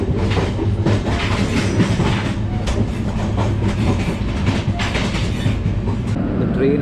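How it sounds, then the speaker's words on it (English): A passenger train heading toward Katpadi junction rolls along with a steady, loud rumble and repeated clickety-clack of wheels over rail joints, plus some metallic rattling, with no talking. "The train has reached Katpadi junction."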